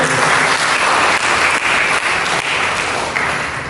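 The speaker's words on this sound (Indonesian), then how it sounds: "Mari kita berikan tepuk tangan" Steady, loud applause from a church congregation during a sermon, dense clapping filling the space evenly for a few seconds without a break.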